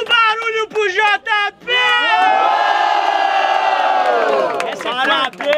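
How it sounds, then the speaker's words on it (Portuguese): A crowd at a Brazilian freestyle rap battle final roars and cheers loudly for a rapper, a sustained shouting swell of many voices that follows the host's brief shouted call and fades as he speaks again. "faça muito barulho pro JP!"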